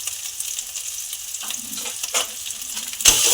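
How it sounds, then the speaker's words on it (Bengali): Coriander powder and other spices being stir-fried in hot oil for a pointed gourd and prawn curry: a steady close sizzle with occasional scraping stirs and a louder burst at the end. "ভালো করে আমি কষিয়ে নেবো সব কিছু মশলা"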